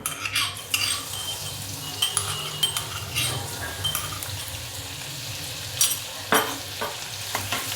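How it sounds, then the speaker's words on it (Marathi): Garlic and chili frying in hot oil with cumin in a pan for chickpea-leaf greens, a steady close sizzle broken by the scrape and clink of a spoon stirring against the pan. "लसूण टाकायचं पहिला मिरची"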